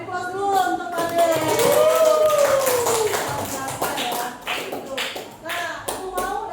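Classroom applause from students: a sustained patter of many hands clapping, with a voice speaking over the start and scattered claps trailing off.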